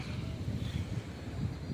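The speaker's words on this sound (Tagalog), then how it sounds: "sobrang lakas dito ng hangin" Strong wind buffets the microphone in low, rumbling gusts, steady and close, with no one speaking.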